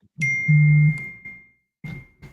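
A phone notification chimes once, a clear bright ding that rings out and fades over about a second in an otherwise quiet room.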